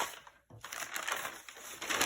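A large sheet of paper is crumpled close by in a brief, quiet burst of crackling and rustling, with a short pause partway through.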